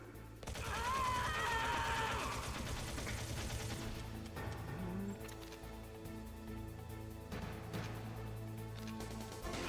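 Rapid gunfire crackles in the PlayStation game Metal Gear Solid, a dense volley in the first few seconds over a steady humming game soundtrack that continues afterward.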